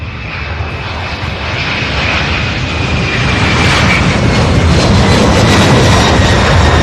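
A UPS heavy cargo jet departs the runway at Louisville SDF, a loud broadband engine roar swelling steadily and staying intense throughout.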